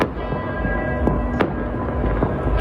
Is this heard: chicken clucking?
no